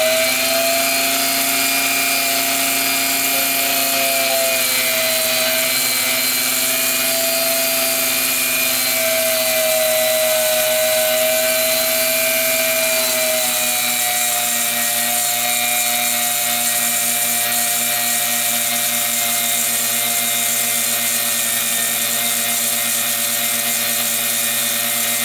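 A pinewood derby car axle being sanded with a number 2 abrasive strip, heard as a loud, steady whirring drone with sustained tonal hum running continuously throughout, no voices present.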